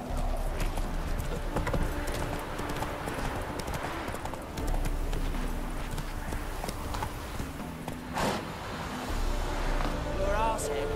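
A horse gallops in The Witcher 3 video game, its rapid clip-clop hoofbeats running steadily across the whole stretch, with a voice talking over them.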